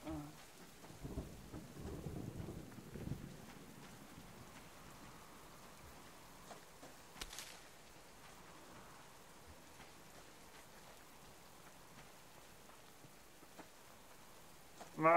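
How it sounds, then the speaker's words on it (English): Rain and thunder in the survival game Subsistence: a heavy rumbling thunder roll early on, then a steady wash of falling rain with a sharper crack midway and a brief loud burst at the end. "Bit rainy day, ain't it?"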